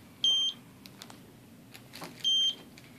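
A Canberra UltraRadiac personal radiation detector alarm gives two short electronic beeps about two seconds apart, each a steady high tone, with faint clicks and handling noise between them.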